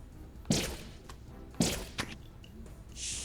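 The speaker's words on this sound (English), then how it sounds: "gonna hear me pressing the button probably more than you normally do" Short, sharp button clicks on a game controller while playing Ty the Tasmanian Tiger, several separate taps with brief thuds and no talking.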